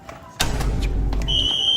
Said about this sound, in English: Immediately, all the alarms were going off and people were already evacuating the premises.